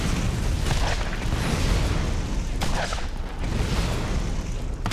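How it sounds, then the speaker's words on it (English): Rocket launcher explosions in the video game Borderlands, heavy booming blasts layered over constant loud combat noise, with a couple of sharper impacts standing out. "I only think the rocket launcher works."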